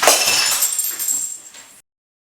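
Broken beer bottle glass clinks and crashes loudly in a short close burst of shattering pieces, ending abruptly in silence.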